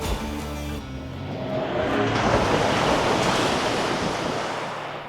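A loud rushing splash of water builds and sustains as a 2024 INEOS Grenadier Quartermaster pickup drives off-road through deep water, with engine noise underneath.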